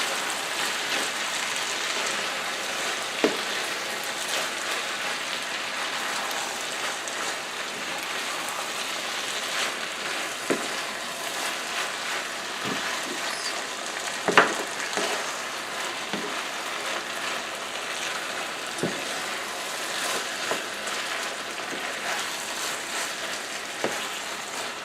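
Shepherd's pie filling of beef and broth is stirred in a hot, crowded pan, giving a steady sizzling hiss throughout, broken by occasional soft spoon scrapes and clicks, with no talking.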